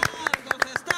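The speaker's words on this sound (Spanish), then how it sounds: "Un aplauso para las biólogas y los biólogos." Scattered hand claps from a small group greeting biologists at a Día del Biólogo celebration, about seven distinct sharp claps spaced irregularly over a second, fairly close, with a voice murmuring underneath.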